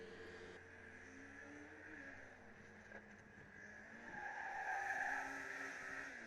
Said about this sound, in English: Car does sound quite good from up here.